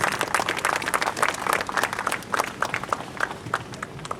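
Applause at a university alumni club awards event: many people clap in a moderately quiet, slightly uneven patter that sounds somewhat distant, with individual claps standing out as it thins toward the end.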